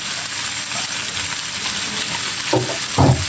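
Fish frying in a pan gives a steady, fairly loud sizzle, with a few brief louder crackles near the end and no talking.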